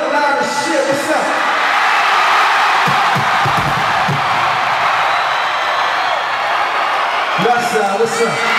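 Loud, sustained crowd at a concert, cheers, whoops and yells running continuously for several seconds as a dense roar, with a voice shouting over it near the start and end.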